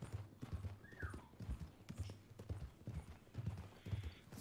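A horse in Red Dead Redemption clip-clops steadily at a walk, its hooves beating in an even rhythm, with a brief whinny early on and faint talk underneath.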